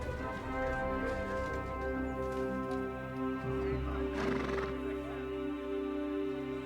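A horse in the medieval game Kingdom Come Deliverance 2 gives a long, loud whinny over a steady musical drone, with hooves clopping nearby partway through.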